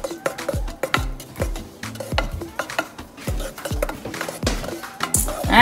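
Spoon stirring a pot of homemade vanilla ice cream mixture, a close, steady run of scraping strokes and metallic clinks against the pot, with no voices.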